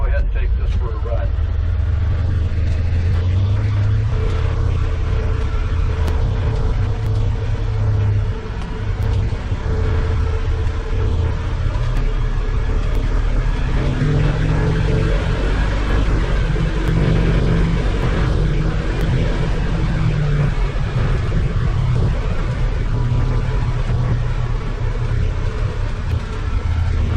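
A vehicle fitted with new tires drives through mud, giving a steady, loud low engine and road rumble with tire noise that continues throughout, a voice talking now and then over it.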